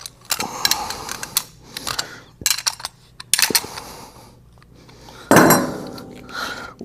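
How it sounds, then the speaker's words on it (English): Metal clinks and clacks as a stem nut is hand-tightened onto a flush tank ball valve, several separate taps and scrapes with short pauses, close and fairly loud, with a heavier clatter near the end. "Take your other stem nut. And you're going to tighten this up."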